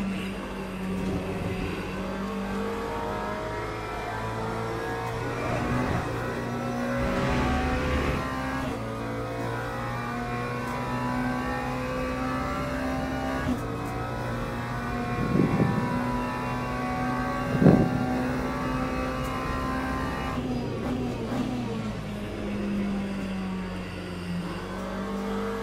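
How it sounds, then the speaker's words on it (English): A car brakes hard and then keeps driving straight, its steady engine drone running continuously with a couple of brief louder bumps partway through and no talk over it. "Now brake hard, then release while still going straight."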